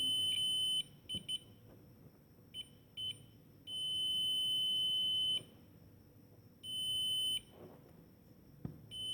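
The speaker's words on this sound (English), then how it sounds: "it is beeping" A digital multimeter's high-pitched continuity beep sounds in repeated bursts of varying length while testing a coil, clear and close, with faint background noise between them.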